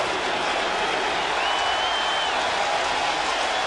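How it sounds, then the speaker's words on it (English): A dense, continuous roar of a large baseball crowd at Yankee Stadium, loud and steady throughout with no break, a faint tonal whistle briefly rising over the noise midway. "So Yankee Stadium is loud. Many in the crowd on their feet."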